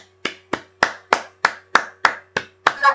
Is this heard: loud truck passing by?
no